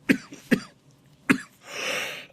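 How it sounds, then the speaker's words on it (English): A short coughing fit with three sharp, close coughs spaced unevenly, followed by a breathy throat-clearing rasp at the end. "That coughing fit was totally unrelated."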